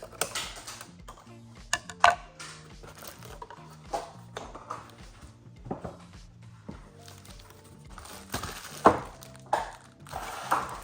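A blade cuts through the cardboard and tape packaging of an LG US95T soundbar subwoofer, making a string of scrapes, taps and thunks close by. The cutting comes in uneven bursts.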